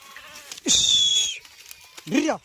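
Two sheep bleats from a flock of about two hundred on a road, a long wavering cry then a shorter one, close by and clear against a quiet background.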